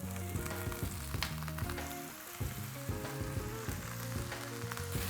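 Chopped raw jackfruit sautéing with softened onion in a pan, giving a loud, continuous sizzle and crackle with steady background music playing alongside.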